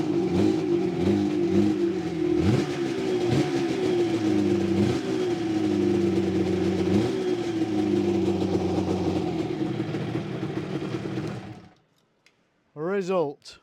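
A Suzuki RG500 two-stroke motorcycle engine, fitted with four new spark plugs, fires on the first kick and runs with loud, uneven revving blips for about eleven seconds before stopping, after which a person briefly speaks.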